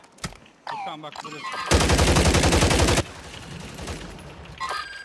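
A sustained burst of rapid automatic gunfire in an online shooter game rattles loudly for about a second, with voices chattering before and softer shooting trailing after.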